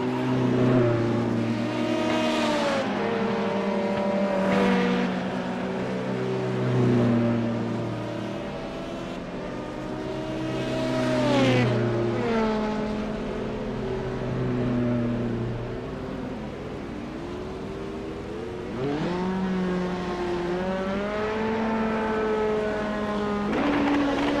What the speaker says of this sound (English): Blue throttling up, getting ready to roll here.